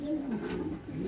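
Soft, low cooing of racing pigeons close by, a throaty burbling murmur against a quiet background.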